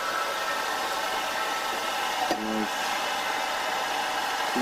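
A steady, loud blowing whoosh of a hair dryer running continuously on its hottest setting, with a brief faint knock partway through.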